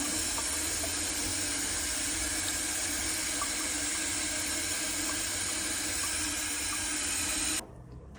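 Clean water pours steadily as a continuous hissing splash to rinse orchid plants, then cuts off abruptly just before the end.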